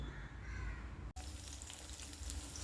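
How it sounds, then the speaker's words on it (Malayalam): Cauliflower pieces fry in about 200 ml of coconut oil with curry leaves over a slow flame, giving a soft, steady sizzling hiss, with a crow-like caw faintly in the background. "ഇതുപോലെ നമ്മൾ സ്ലോ ഫ്ലെയിമിലിട്ട് പൊരിച്ചെടുക്കണം"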